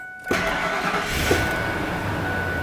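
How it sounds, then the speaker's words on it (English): A 1997-2003 Ford F-150 pickup truck engine cranks briefly and catches, then settles into a steady, close, loud idle. "All right, now with the key in the ignition, let's fire it up."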